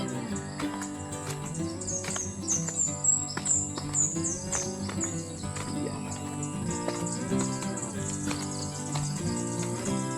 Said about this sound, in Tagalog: maririnig mo yung mga huni ng ibon, tahimik.